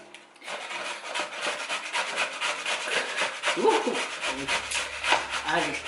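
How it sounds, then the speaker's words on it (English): Taro (kalo) root being grated by hand for fa'ausi, a steady rhythmic rasping and rubbing, close and fairly quiet, repeating in quick strokes throughout. "we're starting to grate the kalo"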